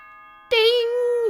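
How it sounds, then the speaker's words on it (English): A bright in-game announcement chime from Danganronpa 2 rings out loud after a short quiet lead-in, one sustained tonal ding-dong that holds steady for most of a second before cutting off. "That chime just now."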